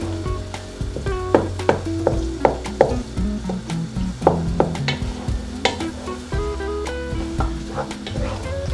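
Spoon stirring and breaking up egg in a simmering masala egg (anda) curry, with steady sizzling and repeated scraping and clinking strokes close up, no talking.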